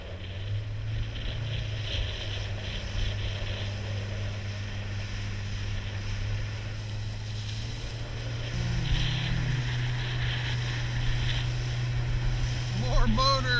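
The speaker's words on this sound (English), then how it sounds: "It's like a lobster boat and then some sort of pleasure craft out here." A lobster boat and a pleasure craft motor past on the water off Rhode Island, a low steady engine drone at a distance mixed with wind noise, its pitch shifting as the boats move.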